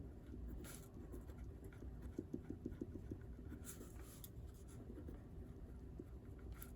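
Pen writing on paper during a precalculus lesson, with faint, close scratchy strokes in short irregular bursts against a quiet room.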